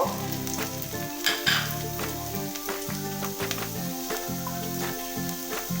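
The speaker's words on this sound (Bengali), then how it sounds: "আমি আবারও তেল গরম করতে দিয়ে দিয়েছি এবার আমি গ্রেট করা যে আদা রয়েছিল সেই আদা আমি একটু তেলের উপর দিয়ে দেব" Grated ginger frying in hot oil makes a loud, continuous sizzle with crackling pops that stays close and steady throughout, with no voices.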